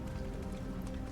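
Brief, even rainfall in Detroit: Become Human, a soft continuous patter of drops filling the scene without any talking.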